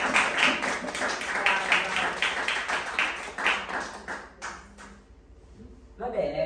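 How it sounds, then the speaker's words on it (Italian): Audience applause at an art exhibition presentation in Turin, heard as a steady wash of clapping that fades toward the end, with a voice coming in briefly at the close. "Bravissima Paola, un applauso per Paola."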